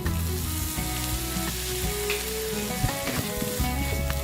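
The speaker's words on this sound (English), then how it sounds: "I'm going to add the last ingredient now, that is the lemon juice." Loud, continuous sizzling of a canned sardine dry fry with spices in a hot pan as lemon juice goes in, a dense steady crackle with a few brief spatters and scrapes, close up.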